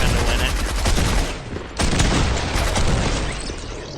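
Shotgun blasts ring out during an arena fight in a video game, dense heavy gunfire and booms in rapid succession, loud throughout with barely any break.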